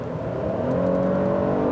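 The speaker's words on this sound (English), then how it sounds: "the engine itself has 310 horsepower, and it makes a pretty decent noise when you put your foot down" A 2018 Buick LaCrosse Avenir's 310-horsepower naturally aspirated V6 pulls under acceleration, a steady, building engine drone with rising harmonic tones, close and continuous with no talking.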